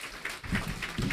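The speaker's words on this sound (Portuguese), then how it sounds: "uma salva de palmas para o Dr." A brief patch of scattered, rhythmic hand claps at a formal solemn session of a medal ceremony, faint and distant, a few quick claps in succession.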